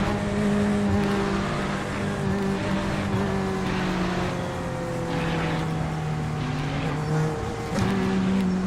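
McLaren race car in the iRacing simulator, its engine a steady, sustained drone with shifting pitch held loud and continuous throughout, with no talk over it.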